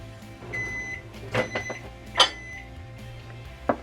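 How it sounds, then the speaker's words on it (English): A microwave oven heats a tablespoon of milk in a small doll-size pink pancake batter, its steady low hum running throughout, with a few bright beeps and clicks near the middle and a sharp beep at the end. "And put in microwave."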